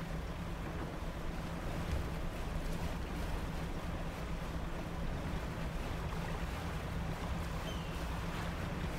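A small fishing boat sails across open water in Dredge, with a steady low engine drone, wash and wind rushing on without a break, fairly quiet and with no talking.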